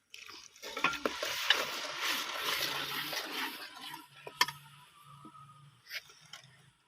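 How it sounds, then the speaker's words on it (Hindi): Ground spices with red chili, turmeric and salt fry in a pot for chana dal, with a soft continuous sizzle under stirring scrapes and occasional spoon clinks, fairly faint and close. "साथ साथ हमारे जो अभी हम लोगों ने मसाले डाले हैं वो भून जाएंगे"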